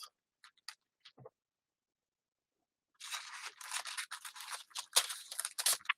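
Scissors cut a part off with a few quick, quiet snips spaced over the first second, then a brief pause before a busier stretch of rustling and crinkling handling close by, with no voices.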